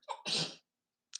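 A single sharp human sneeze, close and abrupt, bursts out of near silence with a short breathy intake just before it and a faint click of noise trailing after a pause.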